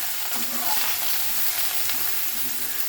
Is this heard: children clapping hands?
no